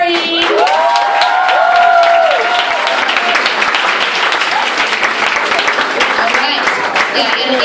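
Dense, loud applause and clapping from the audience at a poetry slam final at AS220 in Providence, filling the room steadily for the whole stretch, with a voice briefly carrying over the start.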